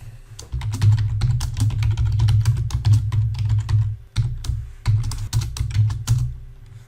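A computer keyboard clatters with rapid, uneven keystrokes as a PowerShell command is typed, heard close and clear over a steady low hum, with a brief pause partway through.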